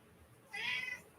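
A pet cat named Mr. Banjo gives a single clear meow midway, close and moderately loud, after a near-silent start.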